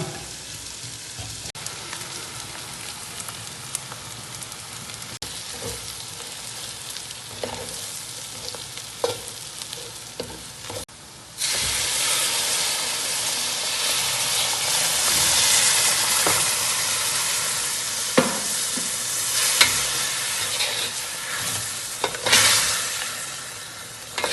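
Ground pepper and chili powder, with garam masala, roast in a hot pan with a steady close sizzle and hiss, light stirring scrapes and taps, louder and fuller in the second half.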